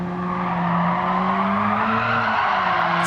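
A Ford Sierra sliding in a racing video game lets out a loud, sustained tire squeal over a droning engine, the skid's pitch wavering and bending as the car drifts through the corner, with no voices.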